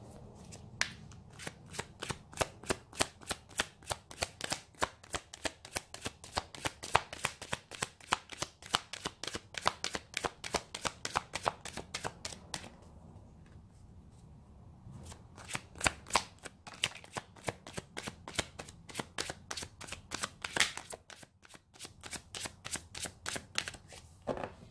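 Tarot cards being shuffled in a rapid run of crisp riffling flicks, close and steady, with a brief pause partway before the shuffling resumes; no one speaks.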